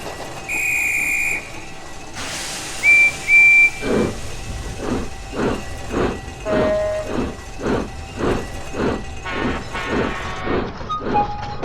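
A cartoon steam engine chuffs away in a steady rhythm of loud puffs with hissing steam, after a whistle and a burst of escaping steam; a high tone rings over it.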